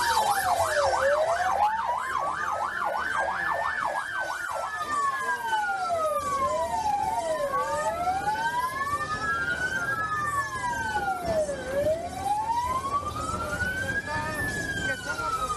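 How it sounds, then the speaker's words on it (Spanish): Ambulance sirens arrive with more than 30 injured outside the emergency entrance of Hospital Escuela in the national capital. A loud, close siren starts in a fast yelp and then settles into long, slow rising-and-falling wails that continue over steady street noise. "Zafra, llegan en este momento las ambulancias con más de 30 heridos a la capital de la República"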